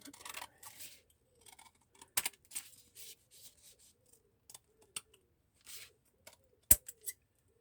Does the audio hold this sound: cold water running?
no